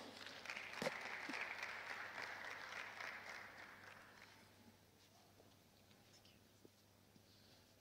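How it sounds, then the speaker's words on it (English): Applause from an audience at a national Enactus competition in Zimbabwe, a modest patter of clapping that fades out after about four seconds, leaving a quiet room with faint rustles. "A round of applause for Mr."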